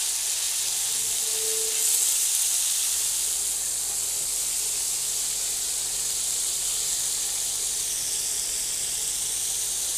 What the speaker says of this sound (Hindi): इसी तरह से आपने साइड पलटते रहना है ताकि ये अच्छी तरह से फ्राई हो जाए।